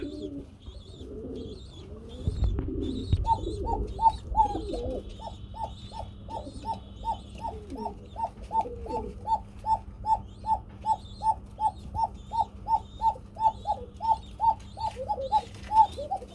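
Pigeons cooing at a Bangladeshi pigeon seller's loft: a few mixed calls and rustles at first, then a long rhythmic run of repeated close coos, about one per half second, with faint higher chirps behind.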